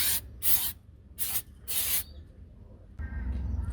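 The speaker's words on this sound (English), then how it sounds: "just quickly spray it down with some brake clean" Brake cleaner from an aerosol can is sprayed onto the brakes of a Mercedes Sprinter ex-ambulance van in four short, sharp hissing bursts, followed by quieter handling noise and a low rumble.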